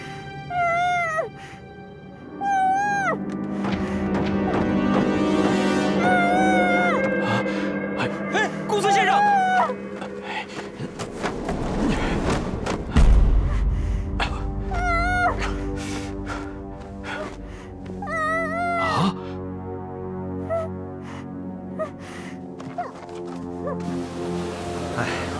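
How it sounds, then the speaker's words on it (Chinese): A stray cat meowing repeatedly in a period drama scene, loud and close, its cries rising and falling over a music score, with a brief noisy burst midway and people talking between calls. "那真的是野猫。"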